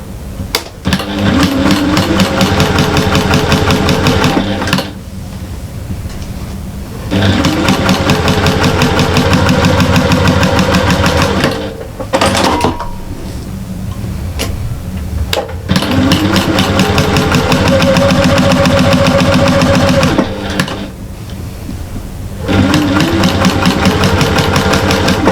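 Sewing machine stitching a quarter-inch seam on cushion fabric, loud close motor whir running in long steady bursts with brief pauses between runs.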